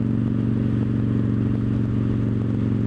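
A Victory Judge motorcycle cruising at a steady 45 mph in third gear, its engine a loud, continuous low throb close to the microphone, with no talking.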